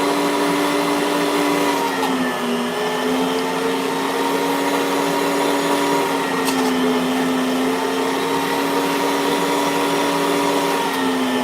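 A grinder runs continuously at close range, a loud steady whirring drone with a slight dip in pitch partway through, with no voices.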